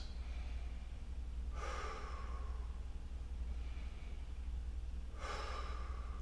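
Two deep, slow breaths during a mobility stretching routine, each a soft rushing inhale or exhale spaced a few seconds apart, close and fairly quiet over a low steady hum.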